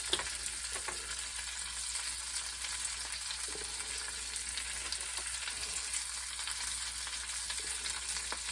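Cauliflower steaks fry in a pan with a steady, even sizzle and crackle that continues unbroken throughout, with no talking.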